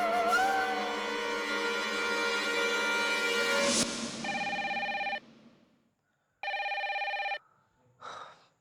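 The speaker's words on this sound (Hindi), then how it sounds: "पिया फोन उठाओ" A telephone bell rings loudly in repeated bursts, with a sharp swell partway through, then fainter trills trailing off near the end.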